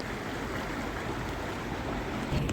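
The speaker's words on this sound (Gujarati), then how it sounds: "અત્યારે મિત્ર પાણી જાય છે" Floodwater of a swollen river in Gir Somnath rushes under a bridge, a dense continuous roar of flowing water, steady and loud with no voices.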